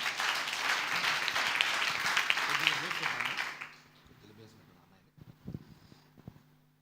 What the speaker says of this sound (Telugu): చప్పట్లు గట్టి కొడదాం.